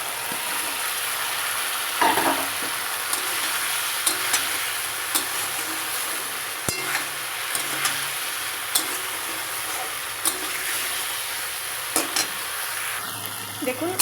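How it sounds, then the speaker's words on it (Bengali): Fried potatoes and eggs stirred into a thick, well-cooked spice masala for a Bengali egg curry, a steady close sizzle broken by regular scraping stir strokes, with no talk. "এবার ভেজে রাখা আলু আর ডিম দিয়ে দেবো"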